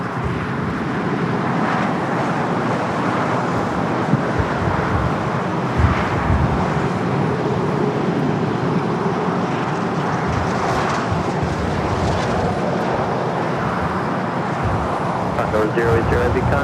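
Emirates Airbus A380 taxiing at LAX, a steady, loud broadband jet roar that runs throughout without a break, with some traffic and wind noise mixed in around it.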